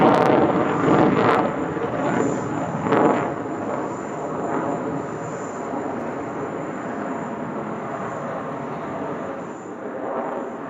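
Fighter jet at a military airshow, an F-15QA two-seat strike fighter based on the F-15E Strike Eagle with powerful engines, gives a continuous loud broadband roar with a rumbling low end and a few sharper swells, heard alone with no talk.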